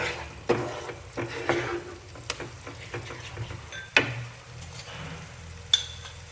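Mushrooms being sautéed in a pan, a close steady sizzle broken by repeated sharp knocks and scrapes of a spoon stirring against the pan, no talk.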